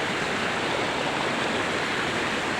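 Steady, dense roar of water pouring over rocks, loud and close, with no voices or breaks.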